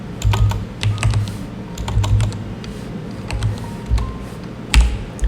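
Close clicking of a computer keyboard in quick irregular bursts of keystrokes with short pauses between, alone without talk.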